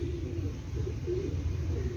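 A pigeon coos softly in low, throaty warbles, a few repeated calls over a faint background hum.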